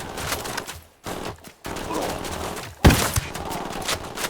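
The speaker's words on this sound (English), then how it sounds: "I'm opening fire on these shitheads." Gunfire in a tactical shooter video game set in the Bolivian jungle: bursts of rapid automatic fire, a loud heavy shot near the end, close and dense, with no talk.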